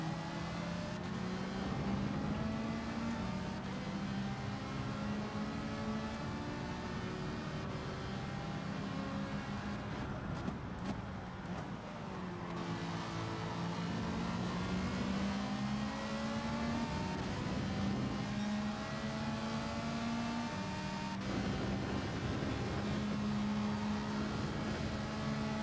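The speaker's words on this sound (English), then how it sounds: "Listen to that Ferrari" A Ferrari race car engine in Gran Turismo 7 screams loudly and continuously, rising and falling in pitch through repeated upshifts and revs, steady and close with no talking.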